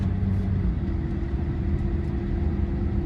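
An old car with low transmission fluid and rough shifting drives down a residential street, its engine a steady low rumble close by with no talk.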